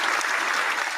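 A studio audience at a talk show claps in a dense, steady burst of applause, close and full, with no pauses.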